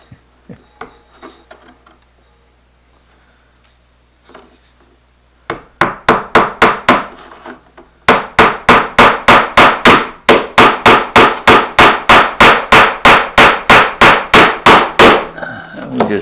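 Small wood pieces for a dollhouse porch being hammered, first light scattered taps, then a run of loud, close, evenly spaced blows that speed into a rapid steady rhythm.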